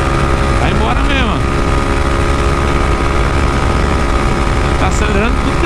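A 371 cc engine held at full throttle, a loud continuous high-revving buzz with a few rising and falling pitch sweeps near the start and end, steady and close.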